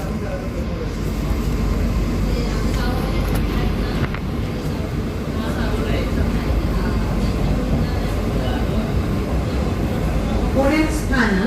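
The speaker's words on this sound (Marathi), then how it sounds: "समोरून कुठेतरी एक्सप्रेस ट्रेन आहे" An express train rushes past close by, heard from inside a moving AC suburban local train between Borivali and Virar, a loud continuous rumble and rattle of wheels throughout, with a voice speaking briefly near the end.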